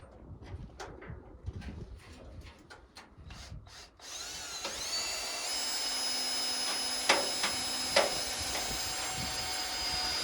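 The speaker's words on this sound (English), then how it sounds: "So I'm just going to get at it and start drilling these guys" A power drill bores through wood framing, first a series of short stop-start bursts, then a long steady whine that grinds on with a couple of sharp knocks, close and loud.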